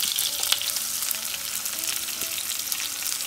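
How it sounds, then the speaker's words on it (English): Roughly chopped onion frying with salt in a pan, a steady close crackling sizzle with a few faint stirring taps, continuous throughout. "I'm going to add some salt to the onion so that it gets fried faster."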